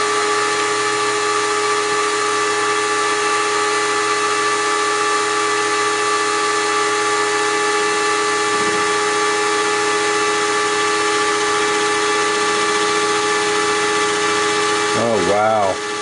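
A metal shaper cuts with a carbide tool under hand feed, giving off a steady, even mechanical hum and whine throughout, with a brief warbling sweep near the end.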